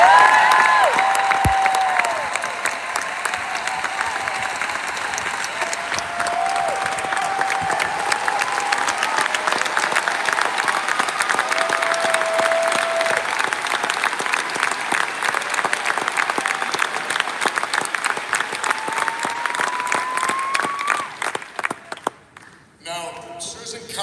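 Crowd applause during a political speech at a civic center: sustained, loud clapping with cheering and some whistles, holding steady for a long stretch before it tapers off and breaks up near the end.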